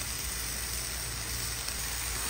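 Egg and onion leaves sizzle in a pan in a constant, even hiss with barely any variation, close and unbroken, and no speech.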